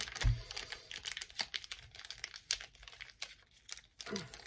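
Plastic or tape crinkling as craft paste is wrapped up to keep it from drying, close and loud, with irregular sharp rustles and crackles in quick bursts.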